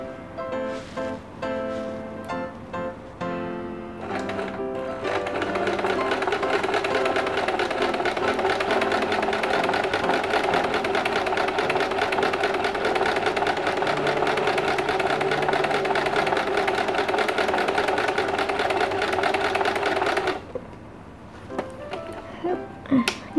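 A sewing machine stitches a zigzag seam while its bobbin thread tension is adjusted, a steady buzzing motor whir with fast rhythmic needle chatter running nearly twenty seconds, bracketed by brief clicks and someone speaking before and after.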